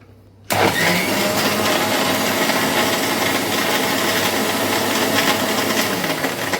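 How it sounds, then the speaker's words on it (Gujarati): After a brief quiet moment, a mixer grinder motor whirs on abruptly, blending jaggery lemonade with ice cubes, and keeps running at a loud, steady pitch with a rough grinding texture until the end. "મિક્સર જારમાં આપણે બ્લેન્ડ કરી લેવાનું છે"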